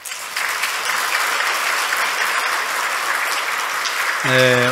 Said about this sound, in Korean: 우리 할렐루야 찬양대에 큰 박수 한번 보내드리시죠.